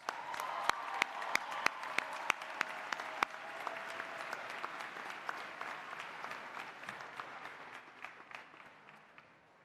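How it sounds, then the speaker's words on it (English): A commencement ceremony audience applauding its stage guests, sustained clapping from a large crowd in a big hall, with sharp individual claps standing out near the start before slowly fading toward the end. "please join me in a round of applause for our stage guests"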